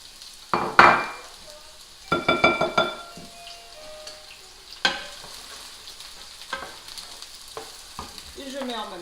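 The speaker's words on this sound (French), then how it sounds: "je mets un peu d'huile. Mes oignons déjà découpés dedans." Chopped onions hit hot oil in a pan and crackle, with a few sharp clanks and stirring scrapes from a utensil, then a soft steady sizzle continues close by.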